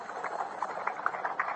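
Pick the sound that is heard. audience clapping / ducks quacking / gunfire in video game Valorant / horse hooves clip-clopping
horse hooves clip-clopping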